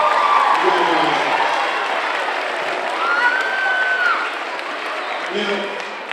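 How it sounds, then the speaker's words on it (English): Students applaud at a school anti-bullying assembly, a broad sustained round of clapping and crowd noise filling a large room, slowly tapering toward the end. "So please give yourselves a round of applause."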